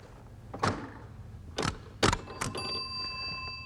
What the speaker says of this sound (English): And the bell told you you'd done it.